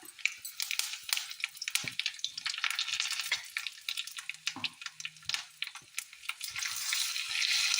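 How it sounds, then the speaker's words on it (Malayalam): Curry leaves sizzle and crackle in hot oil in a pan while mango pachadi is being made, a dense steady frying hiss with scattered sharp pops and spatters throughout, close and fairly loud, with no talking. "ഇതിലേക്ക് കറിവേപ്പിലയും കൂടി ആഡ് ചെയ്യുന്നുണ്ട്."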